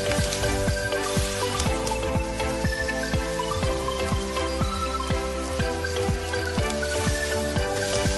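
Squid sizzles loudly as it lands in a pan of golden-browned garlic and chili, a steady crackling fry with repeated stirring scrapes, no voices, while cooking adobo sa gata.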